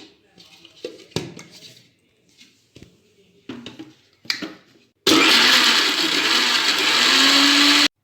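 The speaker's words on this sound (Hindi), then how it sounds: "हल्का सा पानी डाल के और अच्छे से ग्राइंड कर लेना।" Blender loudly grinding grapes and orange with ice cubes and a little water for a mocktail, a steady roaring whir lasting about three seconds after a stretch of clinks, taps and kitchen handling sounds.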